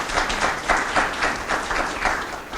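Applause from a luncheon audience, moderately loud, with clapping that swells and dips in a loose, pulsing rhythm across a few seconds in a room.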